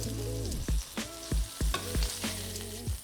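Pork chops for smothered pork chops sizzle loudly in a frying pan, a steady crackling hiss broken by several soft, rhythmic knocks and scrapes of a utensil, with no talking.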